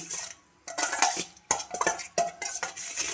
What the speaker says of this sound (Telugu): ఇప్పుడు వీటినన్నిటిని బాగా కలుపుకుందాం.